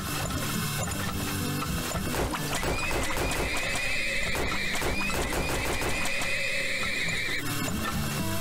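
Horses in the oil-drilling game Turmoil neigh and whinny several times over a busy, constant bed of game music and effects, with a clip-clop of hooves running underneath.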